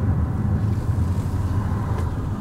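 A Ford Escape with a torque converter clutch fault drives along, its engine droning steadily and fairly loud under wind and road noise, with no distinct surge standing out.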